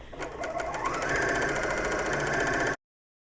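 A serger stitches strips of quilt fabric together in a steady, fast mechanical whir that holds without pause, close and moderately quiet, then stops abruptly.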